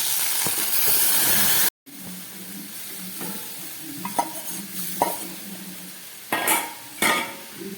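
Moong dal poured into a hot pan of lightly fried spices including radhuni: a loud hissing sizzle that breaks off abruptly, then quieter bubbling with stirring knocks and clinks, swelling again near the end.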